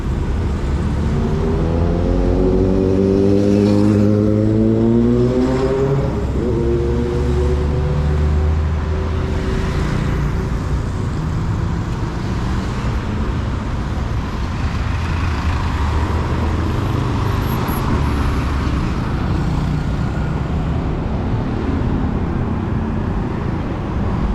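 Busy street traffic in Kuala Lumpur with many motorbikes, engines revving up and passing nearby over a steady roadway rumble, with no talk.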